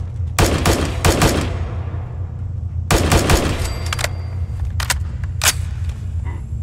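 Heavy .50 BMG rifle shots in modded Fallout 4 ring out in loud, sharp clusters of several blasts each, separated by short pauses, with a faint tonal ring between volleys.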